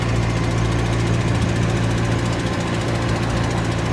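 A loud, steady 1920s vintage car engine runs with a rapid, rough chugging pulse from an exhaust manifold leak, close by and continuous.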